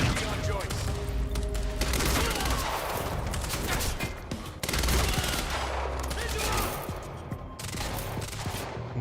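Rapid gunfire from a newly picked-up gun in the game Quantum Break, dense overlapping bursts and shots filling nearly the whole stretch, loud and close with a brief gap midway.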